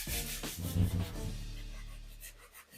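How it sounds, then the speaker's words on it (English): A wet soft bristle brush scrubs Nike Air Max 90 sneakers with a cleaning mixture, giving close rhythmic scratchy rubbing strokes that fade and thin out toward the end. "dab your brush in the mixture, and scrub away basically."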